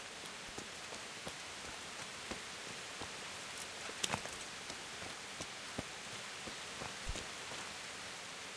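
Steady rain falling in a medieval video game setting, a constant soft hiss with scattered droplet ticks, heard alone at low level.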